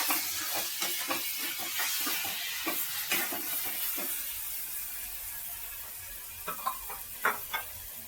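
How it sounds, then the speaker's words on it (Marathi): Finely chopped tomato sizzling in a pan with ginger-garlic paste for palak paneer, with soft hiss and repeated stirring scrapes and taps of a spoon, close up and without speech. "आता आपण आलं लसणाची पेस्ट टाकल्यावर आता आपण त्यात बारीक चिरलेला टोमॅटो घालणार आहोत"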